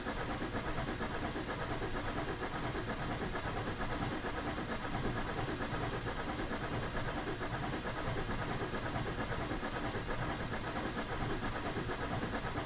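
A steam locomotive runs in Train Sim Classic on the Rio Grande Southern, giving a dense, continuous hiss and chuffing roar that stays loud and unbroken throughout, with no voices.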